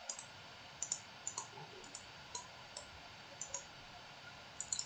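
Faint, close computer mouse clicks tap out in dental design software, a dozen or so sharp ticks spaced irregularly, some in quick pairs like double-clicks, over a quiet room hush.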